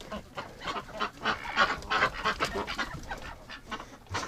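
Muscovy ducks and geese honk and call over one another inside a winter pen, a busy overlapping chorus of calls close by with no talking.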